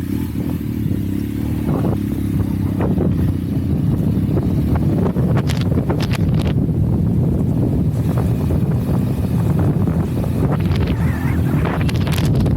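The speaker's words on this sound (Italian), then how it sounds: "vedete il vento soffia" Strong wind blows at the San Marco mountain pass, roaring across the microphone in a constant loud rush with gusty low buffeting and a few faint clatters underneath.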